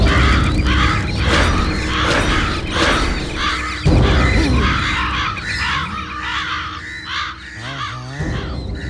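Crows caw repeatedly in a village setting in a Kannada comedy film scene. Harsh, loud calls overlap with people talking, and mechanical creaks sound in the background.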